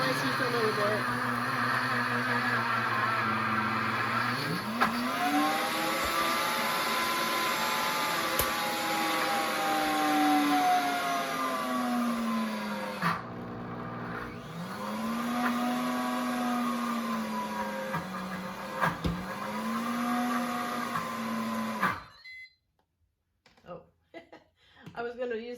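A blender grinds peanuts into peanut butter, a loud steady motor whine that dips and climbs in pitch as the load shifts, close up and continuing for about twenty seconds before cutting off into quiet handling noises.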